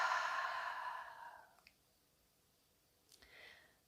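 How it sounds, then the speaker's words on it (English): A slow, soft breath drawn in and released, airy and close, fading away over about a second and a half; after a pause comes a brief faint click and a second quieter breath near the end. "Taking a nice breath in and releasing down and out with the exhale"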